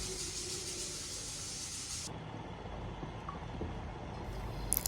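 Chicken pieces frying in oil in a pan, a steady broad sizzle and hiss that drops in brightness halfway through, then continues softer with a few faint crackles near the end.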